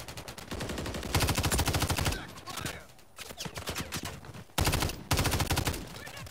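Renetti pistol fire in Modern Warfare III on the Favela map in Hardpoint mode: rapid loud bursts of shots in quick strings, separated by short gaps of quieter battlefield noise.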